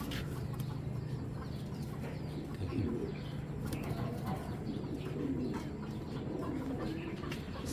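A Gangchil pigeon pair from a tournament line coos in low, rolling murmurs, with a few clucking bird sounds mixed into a dense, steady background.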